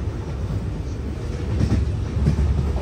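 Rajkot to Ahmedabad Intercity Express cruising on the rails on a foggy day, a steady low rumble from inside the carriage with faint rhythmic wheel clatter, growing slightly louder toward the end.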